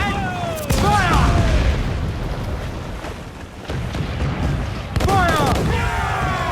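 Ship cannons fire in heavy booming volleys during a naval battle in Assassin's Creed Black Flag, loud and close, with the bursts clustered near the start and again near the end alongside shouting crew voices.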